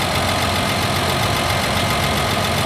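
Tractor engine idling steadily and loudly up close at a Red Power show, a continuous knocking diesel rumble before the machine backs onto trailer ramps, with no talk.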